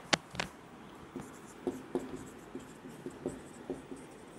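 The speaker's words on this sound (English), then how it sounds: "I'll write it up." A pen writes on paper or a board, giving a series of soft, close scratches and taps at an uneven rhythm in a quiet room.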